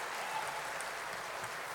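Brief, faint, steady wash of audience applause at the Times of India Sports Awards, a dense even patter heard from a distance throughout.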